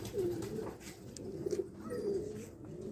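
A pigeon coos nearby in a few soft, rolling phrases, repeated at a steady pace against a quiet background with light rustling.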